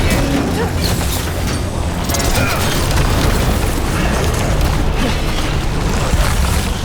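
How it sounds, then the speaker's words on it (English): Continuous dense rumbling blasts and debris from bombs in Dragon Age: The Veilguard fill the scene at a loud, unbroken level for the whole stretch, with no clear gaps between explosions. "So many bombs."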